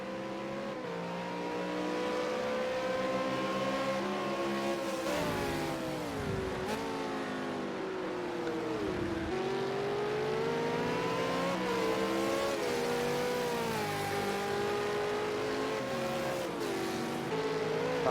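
V8 Supercar race car engines howl at Bathurst's Mount Panorama in the Project Cars video game, a sustained high-revving drone rising and dropping through gear changes, with brief dips and tire noise, no voices.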